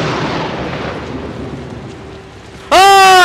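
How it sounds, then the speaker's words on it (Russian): Thunder from lightning in the Outlast horror video game: steady rain-like hiss, then a sudden, very loud crash bursts in near the end and stays loud. "О боже, это была молния."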